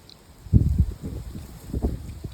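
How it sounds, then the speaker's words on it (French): Wind gusting outdoors in a home fruit garden near an apricot tree, a soft low rumble that rises in two brief swells over a quiet background, with no one speaking. "il y a le vent qui souffle"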